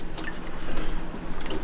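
A gloved hand dips and sloshes in a tub filled with water, giving soft dripping and splashing that runs steadily and close by for under two seconds, with no talk.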